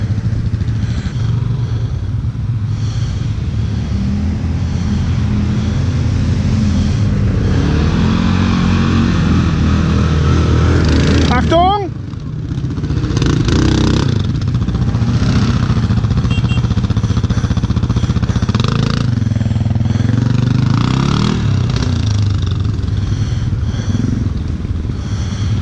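An ATV quad at full throttle climbing a slope at an off-road fun park, its engine loud and sustained with rough revving, a brief drop as the throttle eases, then hard acceleration again.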